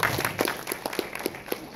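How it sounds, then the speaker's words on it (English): A crowd at a fan convention panel applauds with a dense, steady patter of many hands clapping at a moderate distance, without a clear peak. "Give them a round of applause."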